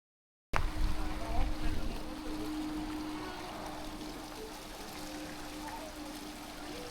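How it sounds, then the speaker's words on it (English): A mountain waterfall in an alpine area near Innsbruck rushes in a steady broadband roar that starts abruptly and continues loud and constant, with wind mixed in. "It's a lovely waterfall area."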